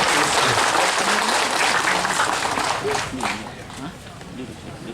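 Audience applause at a government working visit in Kupang, Indonesia, dense and steady throughout, loudest at the start and easing slightly toward the end, with crowd murmur underneath.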